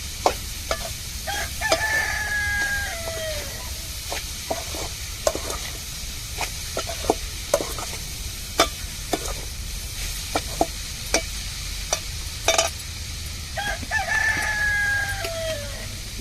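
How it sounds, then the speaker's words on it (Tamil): Spatula stirring sliced potato into a sizzling cabbage stir-fry, with scattered scraping clicks over a steady sizzle, while a rooster crows twice in the background. "வதங்கி வந்ததுக்கு அப்புறம் தான் நம்ம சீவின உருளைக்கிழங்க அதோட மிக்ஸ் பண்ணணும்."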